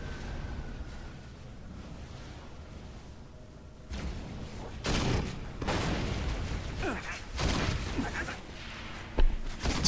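Grenade launcher shots and thudding explosions in Halo Reach, several muffled booms and mechanical clacks spread over the clip at moderate loudness, with a sharper blast near the end.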